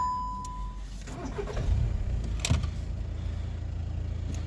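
A 2018 VW Tiguan 2.0 TDI diesel engine cranks and catches, then settles into a steady, low idle rumble after a short chime at the start.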